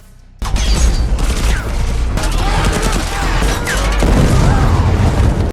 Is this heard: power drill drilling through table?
no